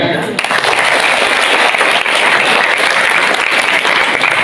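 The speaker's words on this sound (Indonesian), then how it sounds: "Tepuk tangan" Loud, dense applause from a school crowd at a prize-giving ceremony, sustained and even for several seconds after a brief quiet start, with faint voices mixed in.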